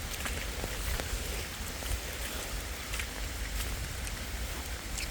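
Rain falling outdoors on a nature walk, a dense continuous hiss with scattered drop ticks, steady and close, no talking.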